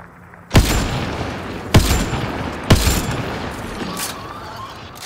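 Gunfire from the video game Mass Effect: Andromeda: three sharp, loud shots spaced about a second apart, each with a rumbling tail, then a fainter shot.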